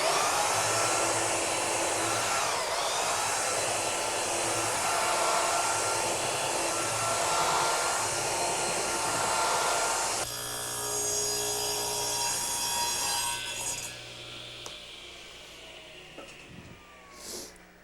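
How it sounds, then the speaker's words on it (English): A belt sander runs steadily over two glued wooden boards, evening out the joint between them, a loud continuous whine that shifts in tone partway through before winding down and stopping near the end. "we've got some unevenness between the two boards, which we'll take off with the belt sander"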